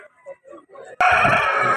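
A rooster at a poultry market, among breeding-quality crossbred birds, bursts into a loud, close crow after a second of faint murmuring.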